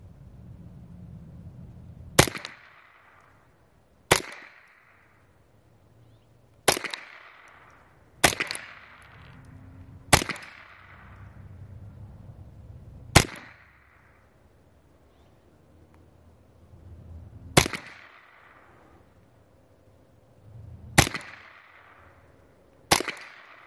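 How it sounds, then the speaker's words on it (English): Ruger 10/22 International rifle fired outdoors, nine sharp individual shots spaced a second or more apart, each loud crack followed by a short decaying echo, no talking between them. "Let's get it up here like it and shoot it a few times."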